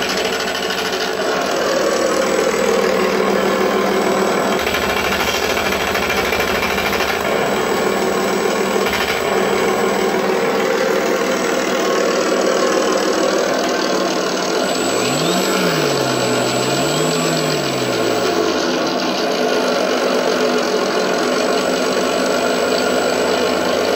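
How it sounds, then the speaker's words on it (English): Model Spitfire Mk IXc with a two-bladed prop and an onboard engine sound system gives a steady, loud buzzing engine-and-prop drone throughout, with a brief rising and falling pitch sweep near the end. "the two-bladed prop makes a lot of prop noise"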